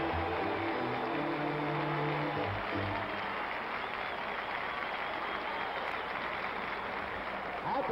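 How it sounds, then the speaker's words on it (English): Partial crowd at a 1970 NBA game 7 between New York and Los Angeles giving sustained applause, a dense steady wash of clapping throughout, with a faint announcer's voice or crowd voices underneath early on. "the partial crowd gives Jerry a big hand"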